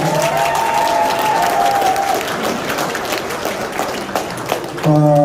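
Audience applause fills a large auditorium at the launch of a political supporters' forum, loud and sustained for several seconds, with a brief voice at the start and the clapping carrying through to the end.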